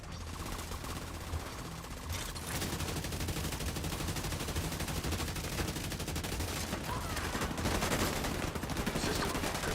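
Dense, sustained automatic gunfire from a shooter video game roars continuously and loudly, with rapid bursts overlapping throughout.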